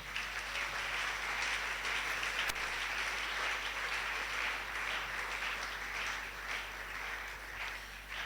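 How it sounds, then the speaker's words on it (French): A church congregation cheers and applauds to acclaim the Lord, a dense, steady wash of clapping and voices that holds for several seconds without letting up. "Quelqu'un acclame le Seigneur."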